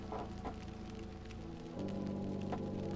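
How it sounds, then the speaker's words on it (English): Hail pattering in the video game Book of Hours: a soft, steady rain-like patter sits beneath quiet sustained musical tones, with a few brighter ticks standing out. "It's hailing today."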